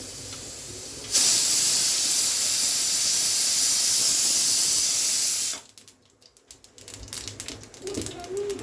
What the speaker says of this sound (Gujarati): તેલ ગરમ થાય હવે રાઈ જીરું થી વઘાર કરી નાખીએ